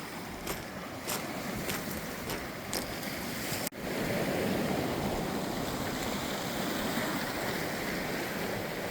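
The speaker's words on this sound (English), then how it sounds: "you could hear the waves are starting to calm down, and it's not as loud and noisy as it was back there." Ocean waves washing onto the north shore of Malcolm Island near Bere Point, a steady broadband surf wash that stays fairly loud throughout, with a brief dropout partway through, and no talking.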